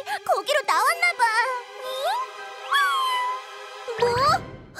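Cartoon newborn kitten giving several high, squeaky meows, close and clear, mixed with bright animated sound effects and chimes, with no one talking over it.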